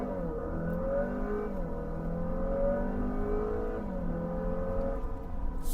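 Acura RDX engine fitted with an MHI Stage 2 turbo revving steadily, a close, continuous drone whose pitch rises and falls through several smooth revs with no voices.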